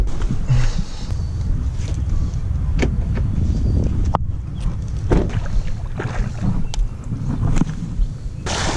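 A car drives along on the way to the next river fishing spot, with a steady low road rumble and wind buffeting close to the microphone, broken by a few sharp knocks and clicks.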